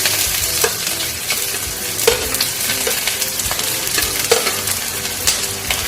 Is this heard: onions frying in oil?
yes